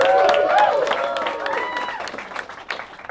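A comedy theatre audience claps and cheers for a contestant, loud at first and tapering over a few seconds, with whoops and voices mixed into the applause.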